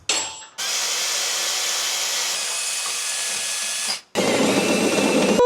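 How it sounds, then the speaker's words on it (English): A power drill whines steadily for several seconds drilling a pilot hole to install a trailer hitch, briefly stops, then starts again at a slightly different pitch, loud and close. "I'm gonna drill a pilot hole, and then I'll bump it up to the bigger size"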